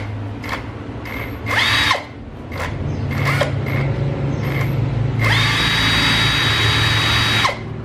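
A repaired JLD impact tool switched on for testing: several short whirring motor bursts with rising and falling pitch, then one long, loud, steady run before stopping, heard up close with no talking.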